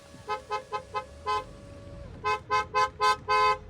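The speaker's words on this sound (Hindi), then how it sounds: "और हॉर्न की क्वालिटी सुना दूं आपको मैं" Horn of a Mercedes GLA 200 tooted in a series of short beeps, four quick close taps, a slightly longer one, then five louder rapid honks near the end.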